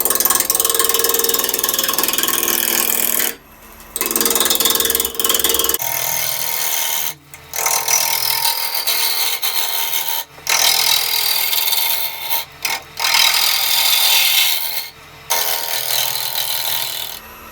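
A jack pine burl spins on a wood lathe at about 1400 RPM as a gouge cuts the bottom flat and forms a tenon, giving loud, close scraping and ripping bursts separated by short pauses.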